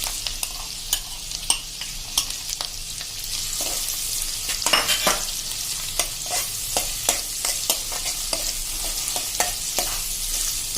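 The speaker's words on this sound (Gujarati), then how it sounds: "મેં એક મીડિયમ સાઈઝનો કાંદો ઝીણો સમારી લીધો છે એ નાખી દેશું" A medium onion, finely chopped, fries in a hot pan while being stirred, with a steady soft sizzle broken by repeated scraping strokes of the spoon and no talking.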